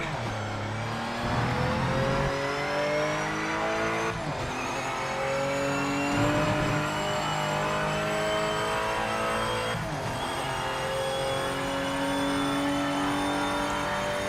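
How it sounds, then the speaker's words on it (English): Race car engine in the Project Motor Racing video game, a loud continuous high-revving drone with rising pitch sweeps through gear changes, steady and close throughout with no talk. "I think we are still the fastest car on the track."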